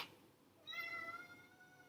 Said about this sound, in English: That was the cutest little meow my entire life.